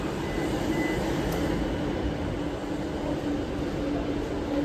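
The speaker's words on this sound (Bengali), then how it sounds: "ফাইনালি চলে এসছে আমার মেট্রো" A steady, loud low rumble and hum of a metro train arriving, continuous throughout with no clear voices.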